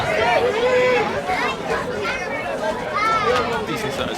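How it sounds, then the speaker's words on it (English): Continuous crowd chatter at a summer football game, a steady hubbub of many voices filling the stands with a few louder individual voices rising above the babble. "Decent size crowd."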